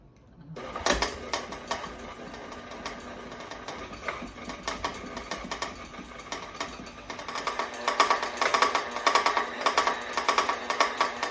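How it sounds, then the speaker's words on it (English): Electric mixer beating chocolate chip cookie dough whirs and rattles steadily, its clattering growing louder toward the end, with no voices. "I generally don't use mixers when I make cookies, but that's my instruction here"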